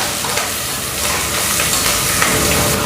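Onions, shallots, garlic, curry leaves and dried chillies frying in a pan give a steady, loud, dense sizzle with faint stirring scrapes throughout.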